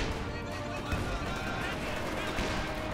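Rapid bursts of MG-34 machine gun fire in the Company of Heroes 2 strategy game, with incendiary piercing rounds cutting into infantry, form a dense, busy layer of battle noise under a commentator's continuous voice.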